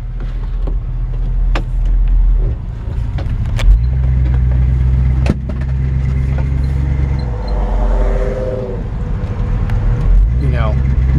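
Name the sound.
1977 Chevrolet Camaro engine running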